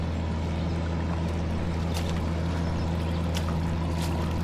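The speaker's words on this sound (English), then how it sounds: "He's pumping water out of the creek." Pump drawing water out of a creek on a hike, a steady low mechanical hum under continuous watery pouring, with faint scattered clicks and no talking.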